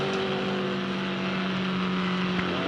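V8 Supercar race car at Oran Park sliding across the finish line in a celebratory slide, a loud sustained engine roar with a steady high whine, heard continuously with crowd and track ambience behind it.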